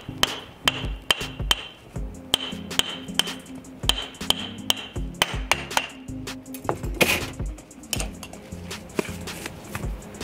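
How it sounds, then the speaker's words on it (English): Steady, ringing hammer strikes on stone, close and loud, landing in an irregular rhythm with sharp metallic pings between blows. "Yes, you can cut it with your hammer."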